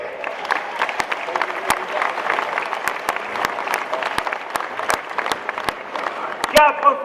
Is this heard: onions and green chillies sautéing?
no